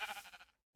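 Sheep bleating in Minecraft, one short nasal bleat fading into brief silence, with the onset of another sound right at the end.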